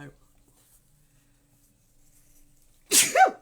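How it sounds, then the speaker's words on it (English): One sharp, sudden sneeze near the end after a stretch of near silence. "I don't know where that sneeze came from"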